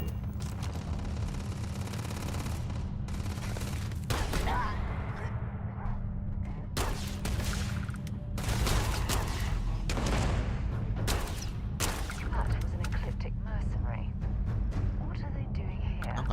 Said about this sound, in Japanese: 銃の音が聞こえる。